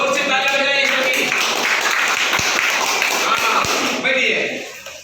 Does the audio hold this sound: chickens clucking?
no